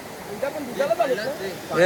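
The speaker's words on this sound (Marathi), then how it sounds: "तर आम्ही आता कासमाळच्या धबधब्यावर आलेलो आहोत" Kasmal waterfall cascading with cold water, a steady broadband rush of falling water throughout, with voices faintly audible beneath it.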